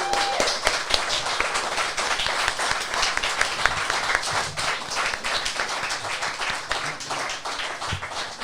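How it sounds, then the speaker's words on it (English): An audience gives a hearty round of applause, many hands clapping in a bright, crisp, dense patter that stays lively and fairly loud for over eight seconds without speech. "So let's give Sarah a massive round of applause."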